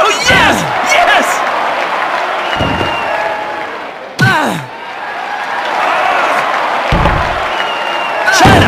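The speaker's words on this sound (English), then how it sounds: "China slammed down hard!" Wrestlers being body slammed to the mat in the Dreamcast game WWF Attitude: several heavy thuds land over a constant roaring crowd, with a commentator talking throughout.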